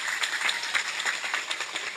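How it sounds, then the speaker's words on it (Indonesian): Steady crowd applause for Quran teachers at a religious sermon gathering in an Indonesian village, dense continuous clapping throughout, moderately loud with no talk. "Tepuk tangan untuk guru ngaji."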